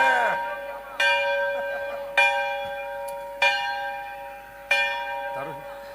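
A stock exchange opening bell struck for Diwali Muhurat trading rings out five times at steady intervals, each loud clear metallic strike ringing on and decaying before the next, with no voices over it.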